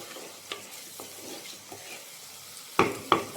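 Cubed tomatoes for a chicken curry sizzle faintly in a hot pan while a spoon stirs them, giving soft scrapes and a few sharp clacks that bunch together near the end.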